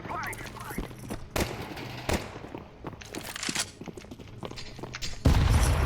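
A grenade blast in Counter-Strike lands as a loud, sudden deep boom near the end. Scattered gunshots and game noise come before it, under steady talk.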